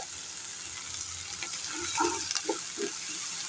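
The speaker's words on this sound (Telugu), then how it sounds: "ఈ పసుపు వేసుకున్న తర్వాత కూడా చక్కగా అటు ఇటు తిప్పుకుంటూ ఈ ఉల్లిపాయ పచ్చిమిరపకాయ వీటిని ఫ్రై చేసుకోవాలి." Onions, green chillies and turmeric frying in a pan, a steady soft sizzle with a few scraping stirs of a spoon, fairly quiet and close.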